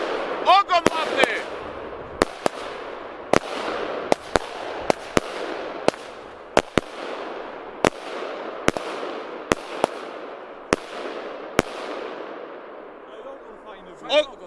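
Titanium salute fireworks go off outdoors in a long series of sharp, loud cracks spaced irregularly about every half second to a second, each bang trailing off in echo, with a whistle or fizz early on.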